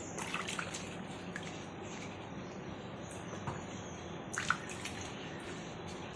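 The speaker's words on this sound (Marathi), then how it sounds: "आता आपण स्वच्छ अशी चोळून चोळून धुवून घेऊयात." Raw mangoes are rubbed and washed by hand in a vessel of water, making soft, continuous sloshing and dripping with a brief louder splash near the end.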